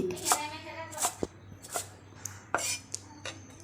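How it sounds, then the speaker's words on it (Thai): A knife chops fresh dill on a cutting board while a northern Thai pork belly and mustard green curry is made, giving a few separate sharp, close knocks spaced irregularly with quiet gaps between them. "เรามาหั่นผักชีลาวต่อค่ะทีนี้"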